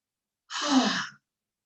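A single calming breath released as an audible exhalation during a yin yoga practice, a soft breathy sigh of under a second, close and alone in silence.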